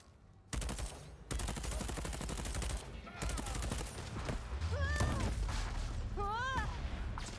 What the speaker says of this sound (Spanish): Y por aquí se escuchan tiros